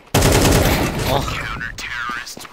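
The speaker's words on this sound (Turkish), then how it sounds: "Headshot sesini duyuyorum burada." A Counter-Strike 2 headshot: one loud, sharp gunshot hits at the start and rings out in a long decaying tail, with a voice faintly heard near the end.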